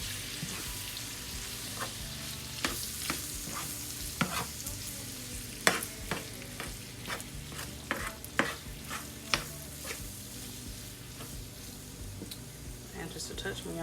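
Batter made from Jiffy cornbread mix stirred in a bowl, a steady scraping and clicking of the spoon against the sides with scattered sharper knocks, close and moderately loud throughout.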